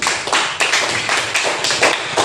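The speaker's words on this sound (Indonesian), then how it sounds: "tepuk tangan untuk semuanya" A school class claps together in a dense, irregular burst that stays fairly loud and close for a couple of seconds, with no talking.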